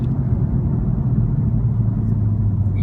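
A BMW F82 M4 engine heard from inside the car while driving, a loud, steady low rumble and drone that fills the cabin.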